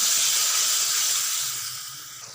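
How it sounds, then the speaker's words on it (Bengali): Water and spice paste hitting hot oil in a pan, a loud close burst of steamy hiss and sizzle that slowly fades over a couple of seconds, with no talk. "এবারে এই যে বাটিতে যে মশলাটা আমি করে রেখেছিলাম, ওইটাতে দিয়ে জল দিয়ে দিচ্ছি"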